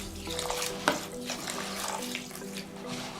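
Warm water runs and splashes steadily into a deep dish of rice, a continuous liquid pour with a faint clink near the start.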